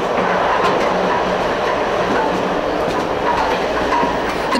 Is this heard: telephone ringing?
no